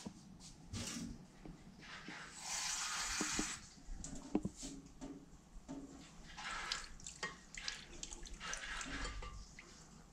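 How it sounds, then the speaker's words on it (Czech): Water splashes and trickles in short bursts into a dish, with drips and light clinks between pours, fairly close and quiet. "Nepatrně to podleju vodou."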